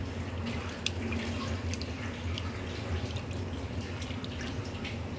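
Meat is washed under an open running tap. A steady splash and trickle of water continues at moderate volume, with a few faint drips and clinks over a low background hum.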